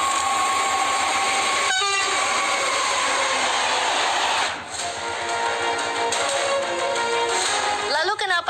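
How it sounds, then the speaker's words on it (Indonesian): A passing train rumbles steadily with clattering wheels while its horn blares in several loud blasts, with a voice speaking over it. "kereta diharuskan membunyikan klakson yang 4 kali sekitar 20 detik sebelum mencapai persimpangan"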